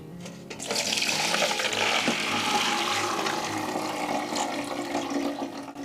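Soaked aduki beans are rinsed under running water, a continuous splashing tap-like stream that rises quickly and keeps a steady wash throughout, close and moderately loud.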